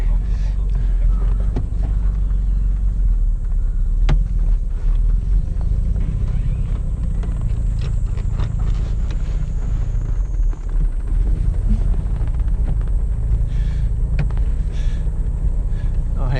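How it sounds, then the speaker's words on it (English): A 1963 Jaguar Mk II engine running steadily after starting on a low battery, a constant deep rumbling idle heard close throughout, with a voice speaking over it. "let's hope we have enough battery left to start the thing"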